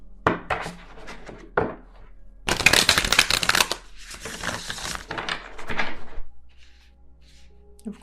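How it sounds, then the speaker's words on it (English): A deck of tarot cards is shuffled several times, with crisp riffling bursts and soft slaps as the cards are squared, close and clear in a quiet room. "You're telling me to shuffle,"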